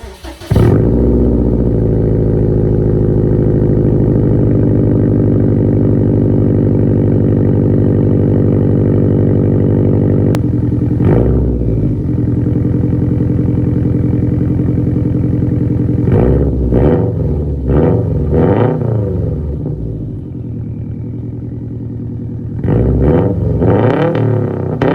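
A Subaru WRX STI fitted with a Tomei single-exit exhaust and stock downpipe revs hard and loud in long sustained bursts, dropping back between pulls, with several sharp blips and throttle stabs toward the end.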